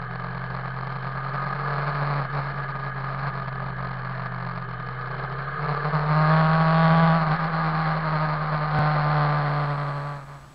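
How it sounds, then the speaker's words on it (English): A Yamaha RD two-stroke motorcycle engine runs steadily with a buzzy, raspy drone that swells as the revs rise midway and then eases off, heard close and without voices. "Now on the RD, because it's a 2-stroke, I wanted to try to capture the sound."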